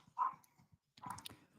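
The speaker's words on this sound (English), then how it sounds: "can you hear that? That's my dog." A pet dog barks in short bursts nearby indoors, two clusters of sharp yelps separated by a brief quiet gap.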